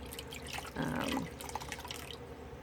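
Water splashing and dripping as exfoliating scrub is rinsed off a face at a sink, a brief louder burst of running water amid faint scattered drips, fairly close.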